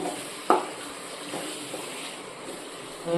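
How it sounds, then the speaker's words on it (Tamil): Stingray fish pieces stirred into masala in hot oil make a close, steady sizzle with a couple of distinct scraping strokes of a spoon, no voices. "திருக்க மீன் சேர்த்து மசாலா கூட நல்லா கலந்து விட்டுருவோம்"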